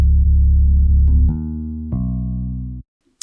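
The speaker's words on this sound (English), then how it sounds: "The 808 with the bass guitar," An FL Studio 808 bass paired with bass guitar lands low notes first, then a second set of notes joins, heavy sustained tones stepping through a few changes before cutting off abruptly.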